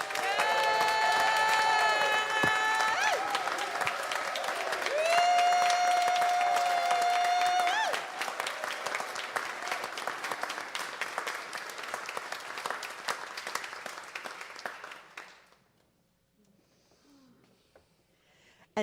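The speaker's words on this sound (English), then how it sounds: "Let's give her a round of applause." An audience applauds at a Sunday church service, with steady, sustained clapping mixed with whoops and a few voices, tonal cries ringing over it early on, and the clapping thinning before it falls to quiet.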